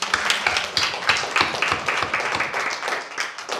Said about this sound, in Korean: 우리 어린이들 힘내라고 박수 한번 더 보내주세요